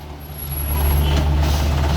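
A heavy Colt Diesel HDX truck engine rumbles nearby on a steep climb with a thin high reversing beep over it, growing slightly louder partway through.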